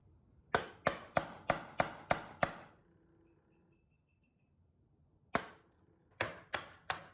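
Crisp sharp strokes of a hand saw cutting wood joinery, a fast run of seven evenly spaced strokes, a pause, then another short burst, close and loud with no talking.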